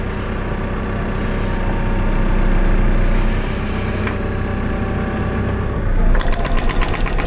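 A steady diesel rumble from a 2021 JCB 3CX Super backhoe loader swells as the boom extends, ending in a burst of rapid rhythmic hydraulic pulsing close by.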